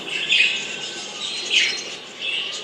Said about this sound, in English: That's my bird Waffles enjoying the company of his new best friend